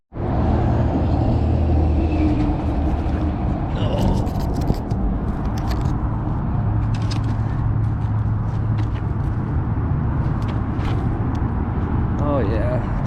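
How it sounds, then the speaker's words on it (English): Cars driving over an unfinished bridge overhead, a steady close booming rumble with scraping rattles as they pass, while someone talks beneath it beside a canal. "Just crawling under an unfinished bridge with cars driving over it"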